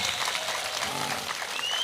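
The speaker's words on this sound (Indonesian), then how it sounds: "Tepuk tangan untuk NU dan Muhammadiyah." Dense crowd applause rings out at an Islamic religious gathering, a steady wash of many hands clapping at moderate loudness for the brief moment.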